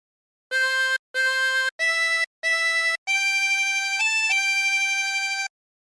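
A harmonica plays a short Holy Holy Holy Lord God Almighty phrase, four separate breathy notes followed by one long sustained note with a brief dip in pitch, loud and close with no talking.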